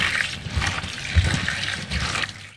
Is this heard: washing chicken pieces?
yes